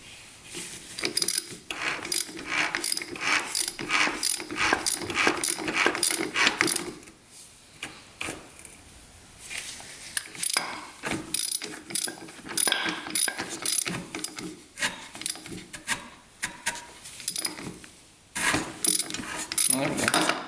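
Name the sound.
turning over a seized dirt bike engine by hand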